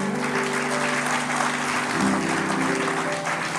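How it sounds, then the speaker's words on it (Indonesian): A church congregation applauds during a sermon, a dense, loud and steady wash of clapping from many hands filling the whole moment without pause. "Saya tepuk tangan untuk Tuhan"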